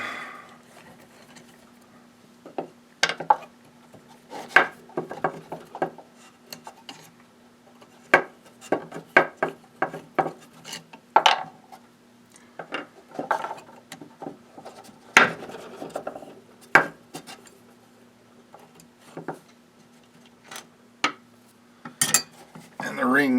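Cap screws are worked out of a cast aluminum part on a Barker PM horizontal mill, heard as scattered close metallic scrapes, clicks and rattles with pauses between them over a faint steady hum.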